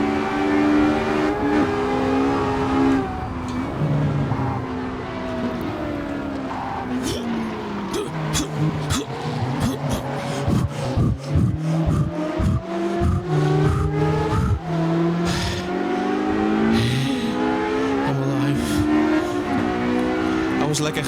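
A 1960s Porsche race car in a racing video game set at Riverside, its engine revving hard through rising and falling gear changes, loud and continuous, with tire squeal and other cars around it and a voice talking over the sound.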